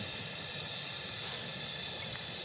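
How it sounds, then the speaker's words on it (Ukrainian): Fish sizzles in hot oil in a pan by a river, a steady, even hiss of frying that carries on without pause and without any voices. "Так, рибка наша смажиться."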